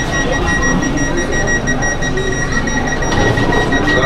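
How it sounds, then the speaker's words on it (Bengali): Vande Bharat sleeper train pulling out of Bandel Junction, heard as a steady, loud rumble of running gear and carriage noise with faint high tonal whines, continuous and close throughout. "আর ট্রেন কিন্তু আমাদের ছেড়ে দিয়েছে ব্যান্ডেল জাংশন থেকে।"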